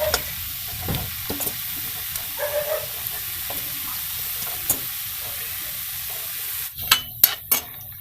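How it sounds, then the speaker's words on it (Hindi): Small wheat dough balls fry in hot ghee for churma laddu, a soft steady sizzle running throughout with occasional stirring clinks and a few sharper utensil knocks near the end. "अब हम इनको गरम घी में तलेंगे"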